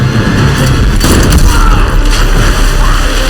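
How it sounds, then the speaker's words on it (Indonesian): A loud, booming gunshot in an action film that blasts a man backward, with a dense crash and rumbling tail. "Sebuah tembakan tepat mengenai tubuh Nestor hingga dirinya terpental"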